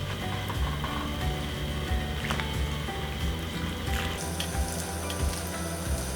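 Korean fish cake soup (eomuk-tang) boiling in a pot: a steady, close bubbling and hissing that runs throughout, with scattered pops and no talk.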